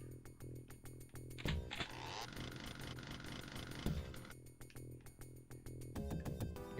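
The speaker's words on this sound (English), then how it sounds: "It is chainsaw time." A chainsaw weapon in the video game Doom II revs with a loud, buzzing mechanical roar, rising and sustained in the middle, over rhythmic game music.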